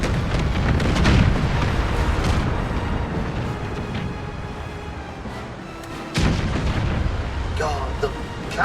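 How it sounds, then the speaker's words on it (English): Cannons firing in the Empire 2 Total War battle game: a series of deep booming blasts with heavy rumbling tails, a strong burst near the start and another sharp blast later, amid continuous battle noise and talk. "God, the cannonballs fire so much quicker on this."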